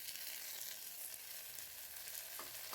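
Tomatoes and onions sizzle together in a pan, a faint, even frying hiss that runs unbroken with a couple of light stirring scrapes.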